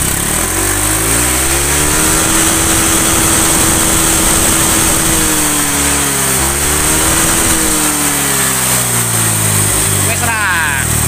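A Honda Vario Techno scooter engine with an overheating air radiator runs at a steady idle with a droning mid-pitched tone that wavers slightly, loud and close, with people talking over it.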